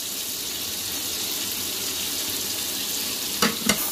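Onion, tomato and ground cumin and chilli frying together in a pan, a steady close hiss of sizzling throughout with two brief clatters of stirring near the end.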